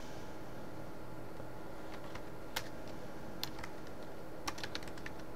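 Typing on a computer keyboard while working on an Ubuntu 11.10 desktop: a few sparse, faint key clicks, then a quicker cluster near the end, all over a steady hiss of background noise.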